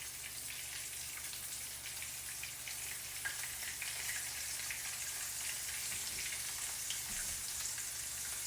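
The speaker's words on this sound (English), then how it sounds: "All right, it's seasoned, it's sizzling." Seasoned cubed steak sizzles in a pan, a steady soft hiss and crackle of frying with scattered pops, continuous and close, no voices.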